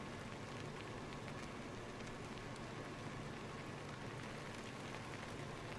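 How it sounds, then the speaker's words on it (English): Steady rain falls on a farm in a farming video game, a dense even hiss of drops with no talk, constant and moderately loud throughout. "Because the rain goes through the roof."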